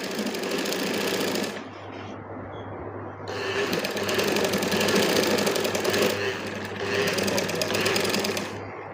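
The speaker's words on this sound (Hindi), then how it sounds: "किनारे पर भी हमने एक इस तरह से सिलाई लगा देनी है।" Sewing machine stitching along the buckram-lined edge of a trouser, running in steady mechanical bursts with short pauses between, loud and close throughout.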